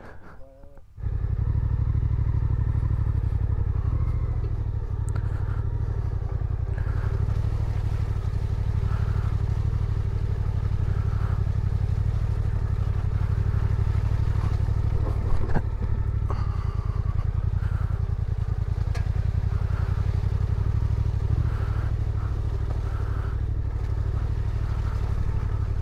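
An off-road trail motorcycle rides along a beginner trail, its engine droning loud and steady with brief surges of acceleration and occasional clatter, heard close throughout.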